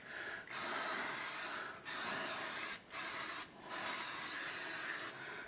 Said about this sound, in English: Spray that with a little, that cooking spray.